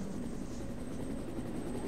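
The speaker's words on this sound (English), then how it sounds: "There's an helicopter." A helicopter in a Resident Evil-style video game gives off a steady, moderately faint rotor drone with a low thrum and breathy wash, continuous throughout, with no voices over it.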